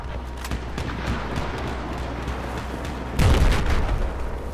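Two-shot burst gunfire in the video game Battlefield 4, with low booming shots amid steady battle noise and a heavier blast near the end.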